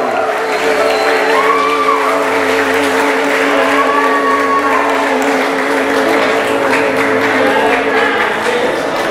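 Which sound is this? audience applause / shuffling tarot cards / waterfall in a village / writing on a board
audience applause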